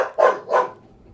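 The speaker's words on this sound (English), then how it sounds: "dog barking in the background" Noodle, a house dog looking out a window, lets out two quick, loud barks in close succession indoors, followed by a fading tail of room echo.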